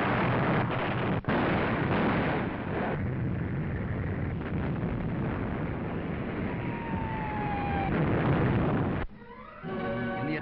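Sustained World War II artillery barrage on German positions, a dense, continuous rumble of heavy gunfire and explosions, loud and unbroken, with a brief gap near the end before the roar resumes.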